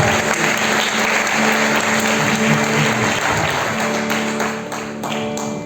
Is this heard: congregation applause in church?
yes